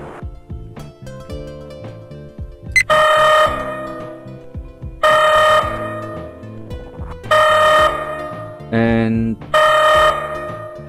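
Star Trek LCARS computer interface firing a red alert: loud, repeating electronic klaxon whoops in four bursts, with quieter beeping interface tones in between.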